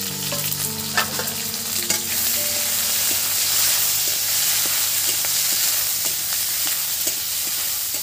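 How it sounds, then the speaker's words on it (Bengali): Chopped onions hit hot oil for khichdi, setting off a loud, dense, continuous sizzle that swells after the first seconds. A few clinks and stirring scrapes sit up close over the roar. "আর এই তেলেরই মধ্যে আমি কাটা পেঁয়াজগুলোই দিয়ে দিচ্ছি"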